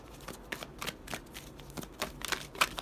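Tarot cards shuffled by hand, a string of crisp riffling flicks and slaps in quick irregular bursts, close and fairly quiet, with no talking.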